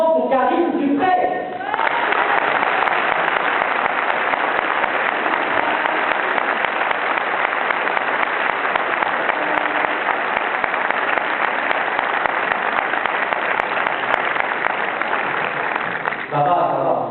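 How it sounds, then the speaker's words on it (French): An audience bursts into loud, sustained applause for a guest, a dense wall of clapping that holds steady for many seconds, with a voice briefly audible at the start and end. "je vous demande un tonnerre d'applaudissements pour Karine Dupré"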